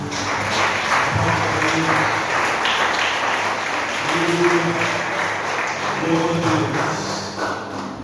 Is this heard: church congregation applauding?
yes